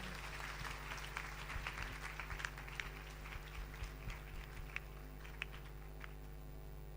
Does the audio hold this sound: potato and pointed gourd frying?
no